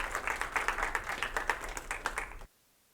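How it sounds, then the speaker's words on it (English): Student senate members clap for newly elected nominees in a meeting chamber, a short burst of quick, moderately close hand claps that stops abruptly after a couple of seconds. "Congratulations, Martha and Suhana. Give them a clap."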